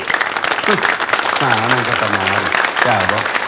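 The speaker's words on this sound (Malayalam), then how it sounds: "കൈയടിക്ക്." An audience claps steadily at a public gathering, a dense continuous applause heard under a voice speaking over it.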